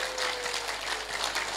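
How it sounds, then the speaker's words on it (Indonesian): An audience claps for the organizing committee at a wayang performance event, a steady dense wash of applause held throughout the short stretch without speech. "saya minta semangat tepuk tangan dulu dong buat panitianya"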